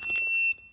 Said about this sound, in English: the way we need to stop the buzzer to making sounds is to